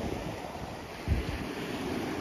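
Ocean surf washes onto Puek Tian Beach in Phetchaburi, Thailand, as a steady, soft roar mixed with breeze and light wind buffeting on the microphone, with no voices.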